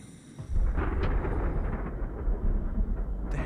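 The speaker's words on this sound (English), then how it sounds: "It's like thunder, but we're on the bottom of the ocean." Deep, continuous thunder-like rumble heard on the ocean floor in the video game SOMA, a loud, heavy low roar that starts abruptly after a brief quiet moment and surges and swells steadily throughout without any break.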